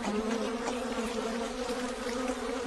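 Bees buzz steadily around a hidden honey hive in a tree, a dense, continuous drone of many insects that stays close and even, with no voices.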